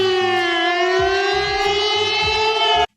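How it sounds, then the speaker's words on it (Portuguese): A civil defense style siren meant to sound when the internet goes down wails loudly and steadily on a sustained rising tone, with clunking noises beneath it, then cuts off abruptly. "Tem uma sirene pra quando a internet acabar"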